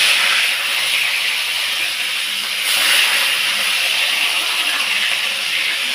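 Fish frying in hot oil for a fish curry, a steady, dense sizzle and hiss that holds evenly close up throughout, with no talk over it.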